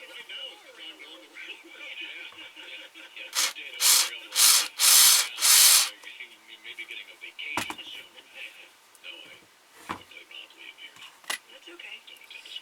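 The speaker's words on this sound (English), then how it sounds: "Now we'll screw this on." Screws being driven into the wooden back of a handmade ventriloquist dummy, with a run of loud rhythmic grinding bursts from a screwdriver followed by sparse knocks and handling sounds, a voice talking in between.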